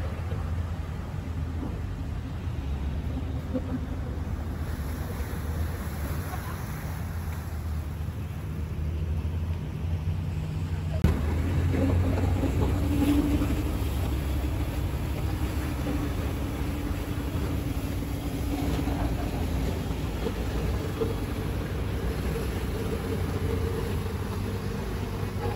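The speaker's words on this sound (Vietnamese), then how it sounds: "Chạy động cơ là 2 máy luôn." Twin engines of a long passenger boat on the Rach Gia to Hon Son, Nam Du and Phu Quoc route in Kien Giang drone as a steady low rumble, a little louder after a brief knock partway through, with no talking.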